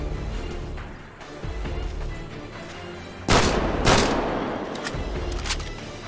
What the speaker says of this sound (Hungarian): Hallom a lövésre!